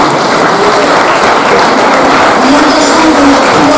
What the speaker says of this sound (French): le plus jeune d'entre nous, Monsieur Louis, qu'on peut applaudir très fort